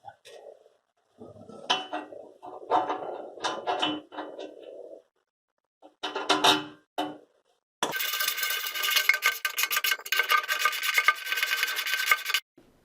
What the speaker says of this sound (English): I spun the auger several times, each time taking off a little bit of the strap until it was right up against the back of the snow thrower